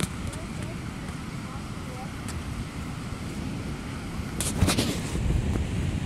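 Wind gusts across a microphone at a beach in December, a steady loud rumble with surf-like roar, while people talk nearby.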